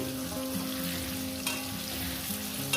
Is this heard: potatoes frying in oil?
yes